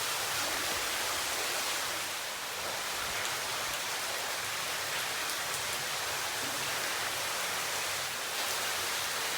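Water in an underground river flows through a limestone cave, a dense, even rushing wash that fills the space continuously without breaks, steady and enveloping, with no voices.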